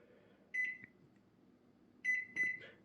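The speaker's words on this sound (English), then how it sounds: "some of you fine folks out there might know how to use your microwave" Three loud electronic microwave oven beeps, the first at about half a second and two more close together near the end, over a quiet room hum.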